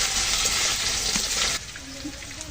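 Potatoes and jackfruit seeds fry in hot oil in a pan for mung dal vegetable khichuri, a loud close sizzle with stirring that drops suddenly to a quieter bubbling crackle partway through.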